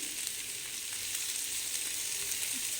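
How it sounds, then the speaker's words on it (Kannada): Onion frying in oil with green chillies in a pan for an egg omelette, a steady, fairly soft sizzle heard close up with no voices. "ಇವಾಗ ಈರುಳ್ಳಿ ಹಾಕ್ತಾಯಿದ್ದೀನಿ."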